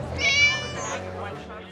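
A celebrity cat lets out one drawn-out, wavering meow close to the microphone, with a voice murmuring underneath at an event.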